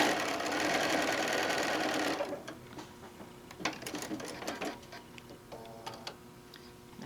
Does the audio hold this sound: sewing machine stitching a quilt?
yes